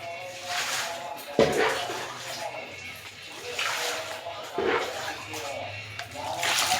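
Floodwater is bailed out of a flooded house in repeated sloshing splashes and pours, recurring every few seconds close by, while voices talk throughout.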